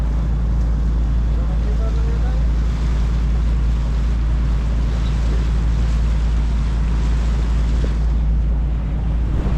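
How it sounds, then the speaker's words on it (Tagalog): Strong sea waves wash around a small boat off Cebu City, heard as a steady, loud roar of water and wind buffeting close to the microphone for the whole stretch, with faint voices underneath. "Ang lakas ng alon."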